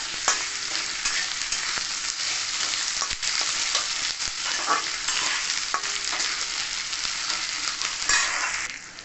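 Long-sliced potatoes fry in a pan, a loud, continuous hissing sizzle close by, with occasional scrapes and clicks as they are stirred, and no talking.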